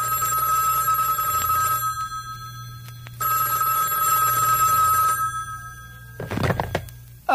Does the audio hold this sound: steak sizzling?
no